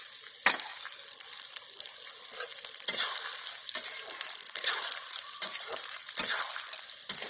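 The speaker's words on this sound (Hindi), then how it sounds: "अब गोद को फ्राई कर रही हैं।" Edible gum (gond) frying in pure desi ghee in a kadhai gives a continuous crackling sizzle, punctuated by repeated scraping strokes of a stirring spoon, close and steady with no voices.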